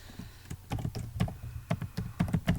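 Someone types at a steady pace on a computer keyboard, close by, in irregular clusters of sharp key clicks and taps. The clicks are heard alone with no speech.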